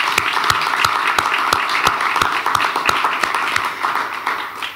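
Clapping at a press event launching cover crop seed mixes, with a soft wash of hands under a few sharper, evenly spaced claps that fall in a steady rhythm throughout.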